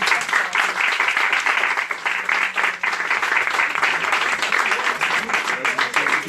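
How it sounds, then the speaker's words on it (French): An audience at a stage hypnosis show breaks into sustained applause, a dense, steady wash of clapping with occasional voices underneath. "de retour parmi nous sous un tonnerre d'applaudissements"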